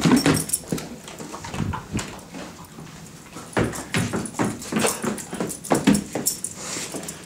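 A dog wearing booties for the first time makes whimpers, yips and odd vocal noises in short bursts, close by, with some faint background movement.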